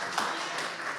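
Audience applause at a Latin Living Legends awards ceremony, greeting a former WBC world boxing champion: a steady wash of clapping through the whole moment, moderately loud with no pauses.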